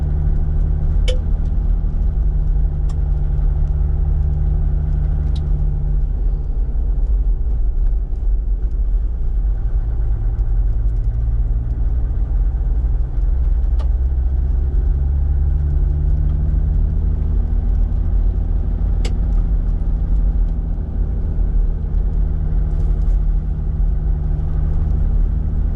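A Toyota 80 Series 4WD drives slowly along a gravel forest road in south west WA, a steady low engine rumble with constant road noise from inside the vehicle and a few faint ticks and knocks.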